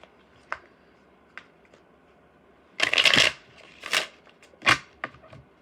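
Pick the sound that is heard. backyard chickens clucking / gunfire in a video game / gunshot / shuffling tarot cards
shuffling tarot cards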